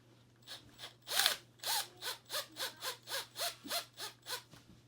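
A hand tool works a hose clamp on a Yamaha YZ250F engine while antifreeze is being drained, giving about a dozen rhythmic rasping strokes, evenly spaced, close but fairly quiet over a steady low hum.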